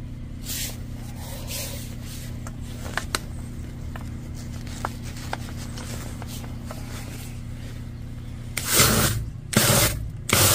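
A drain jetter with a worm nozzle blasts a blocked drain full of fat, giving a steady low droning hiss with scattered clicks, then louder gushing surges near the end.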